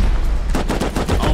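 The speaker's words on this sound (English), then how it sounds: "I am dead from that turret." Automated turret in the survival game Rust rattling off a rapid, loud burst of gunfire, sharp shots repeating quickly and close, with no voices.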